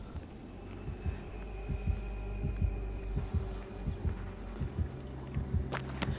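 In a video game, the Nemesis terror radius heartbeat thumps in a steady, low, rhythmic double pulse over a humming background, moderately loud and unbroken by speech.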